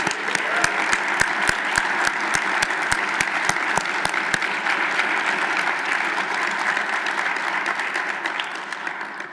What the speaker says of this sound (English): Join me in a final round of applause for all of our recipients.